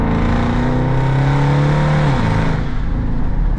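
A straight-piped 2018 Dodge Durango RT rumbles loudly from inside while driving, a deep steady exhaust drone that dips in pitch as the engine eases off near the end.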